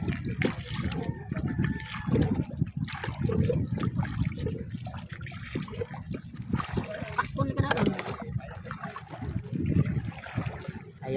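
A small boat returning from an island trip rides through big sea waves, with irregular water sloshing and splashes against the hull alongside a low rumble, while people talk over it.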